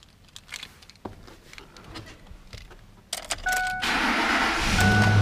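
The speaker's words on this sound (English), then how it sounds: "Truck fires right up." A Ford F-150 pickup truck's engine cranks and fires up after some faint cabin clicks and rustling, then settles into a loud, steady idle close by.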